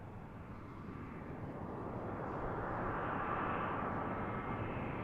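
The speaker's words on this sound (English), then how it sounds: "The next arrival is going to be JetBlue 1955 coming in from Boston, Airbus A320" A JetBlue Airbus A320 jet arrives from Boston at Washington National, its broadband engine roar building steadily and staying loud and continuous from mid-distance, with no voices.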